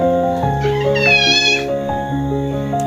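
A female cat meows loudly and close, in a long drawn-out cry with a higher wavering middle section, over a continuous low hum and without talk.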